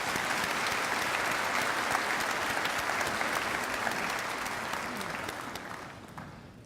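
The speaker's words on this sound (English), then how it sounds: "Let's give them a round of applause." Audience applause at a university spring commencement ceremony, a dense sustained wash of many hands clapping in a large hall, steady then tapering off toward the end, no speech over it.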